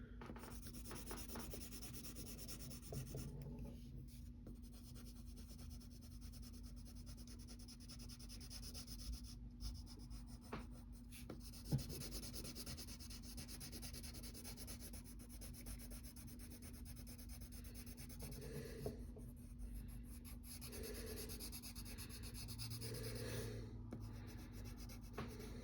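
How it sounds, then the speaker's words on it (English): A pencil shades on paper while Daffy Duck is drawn: soft, steady rubbing and scratching strokes at close range, quiet and continuous under a faint constant hum, with no talk. "remember to use the side of your pencil when shading something"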